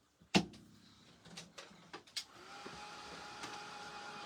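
A small electric dryer blows air over a handmade strawberry-themed craft piece. A few clicks and knocks come first, then the motor settles into a steady whirring hum with a faint tonal whine, close and alone.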